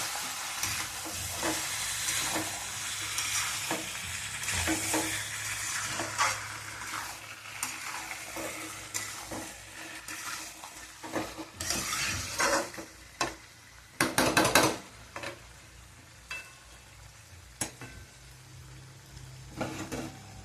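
Meat sizzling and frying with spices in an old kadai, a continuous close hiss broken by repeated scraping stirs and clattering knocks of the spoon, louder bursts of stirring near the end.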